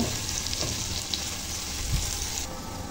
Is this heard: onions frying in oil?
yes